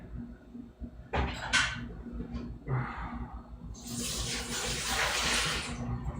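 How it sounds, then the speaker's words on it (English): Water runs and splashes over a small mechanical part being rinsed clean after bearing oiling, a few knocks and clatters near the start, then a steadier louder rush of flowing water toward the end. "Rinse this thing out."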